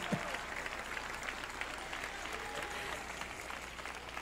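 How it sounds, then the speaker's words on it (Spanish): A church congregation applauds a preacher during an evangelical sermon, steady clapping spread through the room for the whole stretch at moderate distance, with no voice over it. "Ay, la primera vez que me aplauden cuando digo eso."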